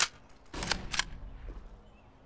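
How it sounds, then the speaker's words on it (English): A flashbang grenade goes off in Counter-Strike, a few sharp bright bursts close together, then a fading ringing tail, fairly loud against quiet game ambience. "Okay, deploying flashbang."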